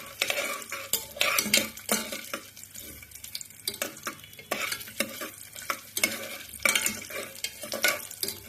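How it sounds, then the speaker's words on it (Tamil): Coconut slices frying in hot oil for Kerala kalathappam, a steady close sizzle broken by frequent clinks and scrapes of a spoon stirring in the pan. "இதை வந்து அப்படியே எண்ணெயில் போட்டுட்டு நல்லா வறுத்துருவோம்"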